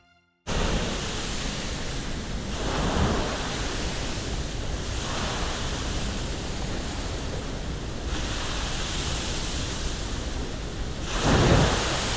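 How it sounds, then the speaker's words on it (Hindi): Steady rushing water of the Krishna river pouring from Srisailam dam, a continuous broadband roar that holds even and unbroken throughout, with a slight surge near the end. "शाम होते होते हम आप पहुंचते हैं श्रीशैलम डैम के पास, जहां से जल कल कल करके बह रहा था।"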